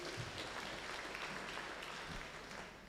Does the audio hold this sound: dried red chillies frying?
no